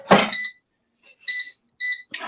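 A kitchen timer being reset gives short, bright electronic beeps in separate bursts, fairly close and clear. A brief clatter sounds at the start, with another at the end.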